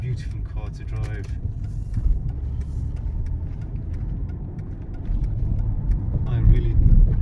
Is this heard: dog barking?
no